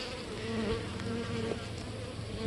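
Dense, steady buzzing of many honeybees close by at a hive, a continuous droning hum with no voices.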